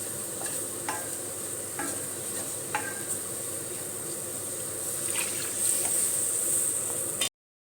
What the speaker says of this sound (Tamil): இப்போ நம்ம கரைச்சி வச்ச புளி ஊற்றிக்கலாம்.